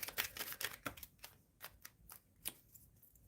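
Tarot cards being shuffled by hand, quick papery riffles and taps in short irregular bursts, close and fairly quiet, with no talking.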